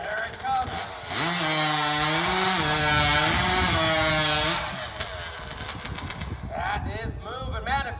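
At a lumberjack competition, a motorized saw cuts through timber, a loud rising and falling engine whine under load that eases off, with crowd noise and a commentator's voice around it.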